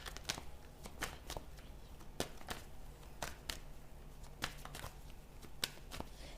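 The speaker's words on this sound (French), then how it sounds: "je vais la recouvrir, cette carte." Tarot cards get handled close up during a reading, one card being covered by another. Soft, quiet shuffling and light slaps of card stock come in irregular bursts, with no speech.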